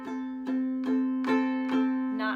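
Ukulele chord strummed with the fretting fingers not pressing the strings down fully, heard as five or six evenly spaced strums, each with a buzzy, muted decay, played alone at close range.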